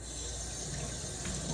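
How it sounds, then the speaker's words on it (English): A sink sprayer rinses a basin with a steady, close, full-bodied rush of water that runs without pause and with no talking. "Take the sprayer, just rinse it all down."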